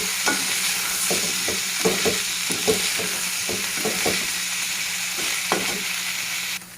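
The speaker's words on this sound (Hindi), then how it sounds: "अब इसमें मैं मटर डालूंगी। इसके बाद हम इसको अच्छे से मिक्स करेंगे।" Green peas are stirred through hot oil in a pan, the spoon scraping in a steady rhythm of dull clacks over a constant loud sizzle, with no voices.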